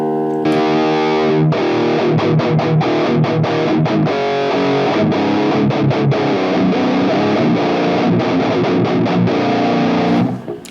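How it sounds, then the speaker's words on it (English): Electric guitar played through a Wampler Dracarys distortion pedal, heavy saturated chords and riffs ringing continuously with rhythmic chugging stops, loud and close, no talking. "Now let's turn on the Wampler Dracarys."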